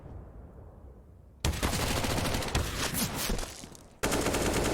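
Pistol gunfire in Counter-Strike on the Dust2 map during a pro esports match; loud rapid shots crack out in two dense bursts separated by a brief quieter stretch.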